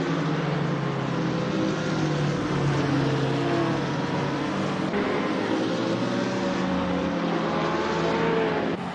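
A BMW Z4 GT3 race car engine drones steadily at Spa in Assetto Corsa, a loud sustained tone with gear-related pitch shifts and a constant hum throughout.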